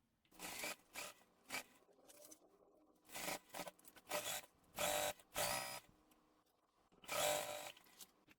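A sewing machine stitches a bag's panel lining in a series of separate bursts, each a loud whirring run of rapid needle strokes lasting about half a second to a second, with short quiet gaps between runs.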